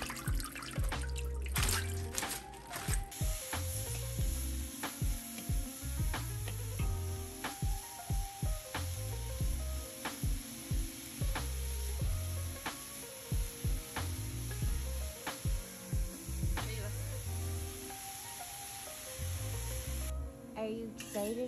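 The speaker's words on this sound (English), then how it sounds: "Stir fry with a little bit of garlic and salt to see how it tastes." Napa cabbage stir-fried with garlic and salt in a wok, giving a steady close sizzle with repeated scraping and tossing strokes of a utensil against the metal.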